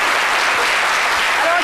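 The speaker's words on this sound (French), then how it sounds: "On applaudit Kedivara pour son honnêteté." Group applause for a participant in a French quiz game, a brief, loud, dense burst of clapping with voices mixed in.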